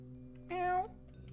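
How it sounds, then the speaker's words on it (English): A single short meow from a cat in the game OneShot, a brief rising-and-falling cry lasting under half a second, set against a quiet low background hum. "Oh, a cat. Are you lost?"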